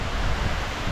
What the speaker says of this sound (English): there's such a breeze coming, just being in front of the waterfall